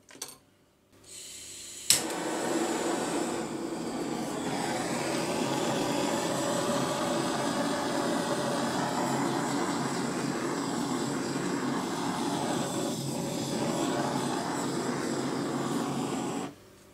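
A steady, loud rush of air blown gently across acrylic pour paint, starting abruptly after a brief click and holding a constant whooshing roar close to the microphone for most of the time.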